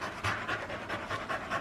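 Dogs pant close by in quick, rhythmic breathy bursts, several per second, steady and moderately loud with no talking.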